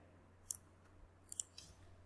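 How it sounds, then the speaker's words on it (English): Sharp clicks of computer keyboard keys being pressed, one isolated tap followed by a quick cluster of three close together, crisp and fairly faint against a quiet room hum. "I am pressing a key."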